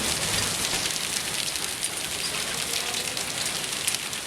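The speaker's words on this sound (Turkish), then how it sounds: "Sarı kamışa dolu yağıyor." Hail pelting a 2000 Renault Clio on the road at Sarıkamış, a dense, loud, continuous drumming of small impacts on the car body with no talk over it.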